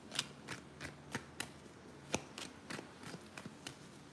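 Oracle cards are handled and shuffled in a steady series of crisp riffling flicks about every third of a second, close up and moderately quiet, with no talk.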